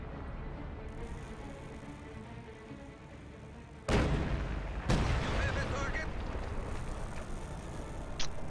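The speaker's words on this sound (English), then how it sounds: "Panzerwerfer coming down on the AT gun back there will clear it" Panzerwerfer rocket artillery barrage in Company of Heroes: two heavy, sudden blasts about a second apart burst over a steady rumbling battlefield din and leave a crackling roar behind them.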